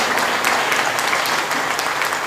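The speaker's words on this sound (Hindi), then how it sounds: "एक बार जोरदार तालियां इन बच्चों के लिए" Loud, dense applause from an audience at a poetry recital gathering, continuous clapping with no pauses across the short stretch.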